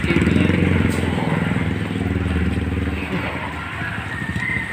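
Motorcycle engine running close by in a flooded subdivision after a typhoon, a steady low rumble throughout with faint background talk.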